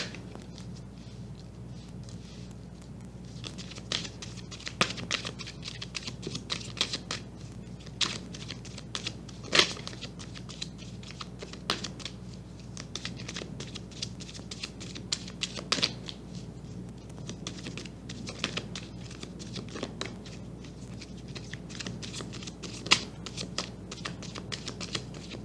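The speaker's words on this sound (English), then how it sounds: "So let's go get a card." Tarot cards are shuffled and drawn in a quiet room, giving a long run of soft, irregular paper riffles, flicks and taps close by with no talk.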